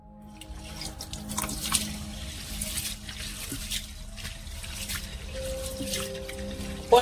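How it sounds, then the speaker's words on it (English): Rice and grapefruit washed under a running tap, a steady splash and trickle of water with small drips and handling clinks close by, no voices. "There I'm going to wash the grapefruit and the rice now."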